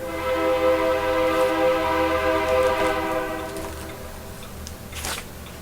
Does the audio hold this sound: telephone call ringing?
no